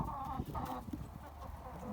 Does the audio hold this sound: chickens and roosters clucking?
yes